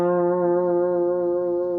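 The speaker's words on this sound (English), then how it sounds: "They're pretty popular blues licks." A single sustained guitar note from a blues lick in F, bright and slightly effected with a reverberant tone, held steadily for under two seconds with no talking.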